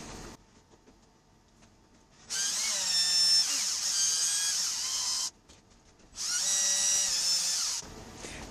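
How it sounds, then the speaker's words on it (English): A power drill drives two screws into a plastic part for an RC truck snow plow, in two high-pitched whining bursts of about three and one and a half seconds, close-up, with a quiet pause between and no voices. "Let me just take these two screws and put it in real quick"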